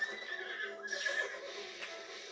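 A horse neighs in Zelda Breath of the Wild, a short, clear whinny rising and falling over about two seconds, heard alone with a faint game ambience beneath.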